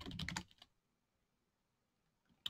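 A quick burst of keystrokes on a computer keyboard while Linux commands are entered, a dense cluster of close clicks in the first half-second, then near silence and a single sharp key press at the end.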